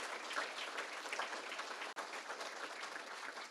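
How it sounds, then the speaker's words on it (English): An audience at the Manatee Tiger Bay Club 2023 Pat Glass Leadership Awards gives elected officials a round of applause: sustained, dense clapping from many hands, with a brief dropout midway. "Please give them a round of applause because these are our leaders"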